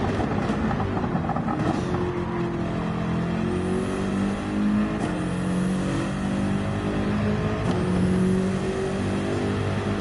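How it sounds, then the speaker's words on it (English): A race car engine in Gran Turismo 7 roars steadily and loudly at high revs, with a few brief rising gear-shift sweeps, heard alone and without talk. "I just love the sound of this car."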